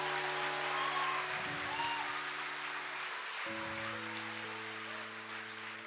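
A church congregation applauds during a worship service, a broad wash of clapping that continues under sustained keyboard chords and slowly fades.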